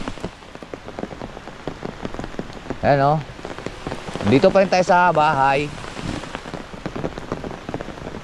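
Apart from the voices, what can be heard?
rain falling on surfaces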